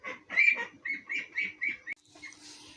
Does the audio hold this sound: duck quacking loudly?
yes